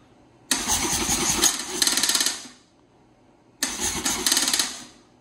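Two separate bursts of cranking from a 1996 Buell S1 Lightning motorcycle engine as it tries to start, each a loud, whirring, pulsing starter churn lasting about two seconds before cutting off.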